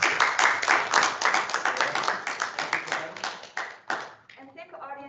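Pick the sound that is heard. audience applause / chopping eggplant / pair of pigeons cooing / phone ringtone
audience applause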